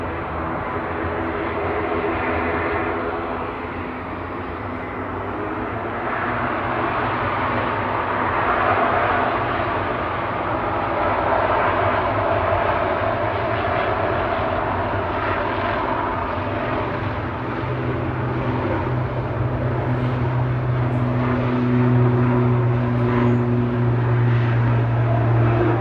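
An Aurigny ATR 72-600 turboprop departs Manchester Airport with a sustained loud propeller and engine roar, deep tones swelling near the end, heard from the spotting area without talk.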